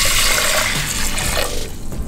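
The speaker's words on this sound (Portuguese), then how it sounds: "Agora nós vamos cobrir com 2 xícaras de água." Hot water poured from a cup into a pot of brown rice, a loud, close, continuous splashing gush that thins and fades near the end.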